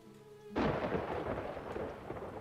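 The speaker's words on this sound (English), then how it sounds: "And also thunder and lightning around here." Thunder in the village-building game Farthest Frontier, a sudden loud crack followed by a long, deep rumbling roll that stays heavy to the end, with no talk.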